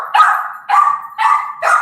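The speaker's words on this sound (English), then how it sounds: "you may want to pass on me until this dog stops freaking out" A dog barks four times in a steady rhythm, each bark loud, close and high-pitched, with no other sounds.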